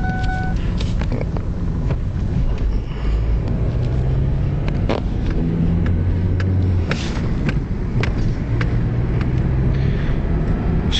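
A Ford Mondeo driven by a ten-year-old, its engine rumbling steadily and building as the car speeds up, with continuous low road noise throughout and occasional clicks.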